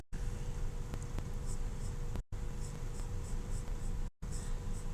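A pen moves over paper while a character is drawn with shape mapping, a faint, steady close scratching broken by a couple of short gaps, with no talking.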